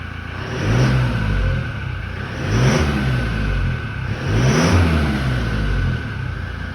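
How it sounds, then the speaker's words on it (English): A Nissan NP300 Navara with a PPD exhaust and its muffler removed revs three times in deep, rumbling swells, each rise held briefly before falling back to idle, loud and close with no talk. "Got rid of that muffler there, so we've lost a lot of weight there. Give it a bit of a rev."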